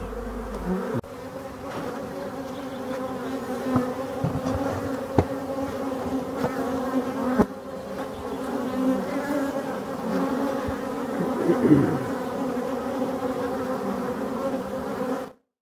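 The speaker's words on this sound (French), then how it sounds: "Donc les abeilles sont bien au travail." Black honeybees buzz steadily at the hive during spring forage on dandelion and fruit-tree pollen, a dense, continuous drone with a few individual bees passing close by.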